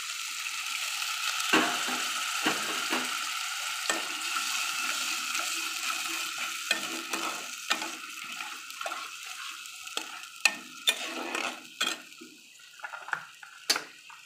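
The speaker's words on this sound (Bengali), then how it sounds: "বন্ধুরা, হালকা করে একটু জল দিয়ে দেবো।" Water poured into a hot pan while cooking mochar jhale, a banana-flower curry, producing a loud sizzling hiss that settles into crackling pops and spits scattered over the rest of the stretch.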